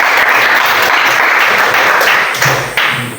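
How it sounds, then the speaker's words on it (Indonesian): A classroom of students and teachers gives a presenting student group dense, loud applause that runs steadily and close by, then thins out with a couple of final thumps. "Kita berikan tepuk tangan."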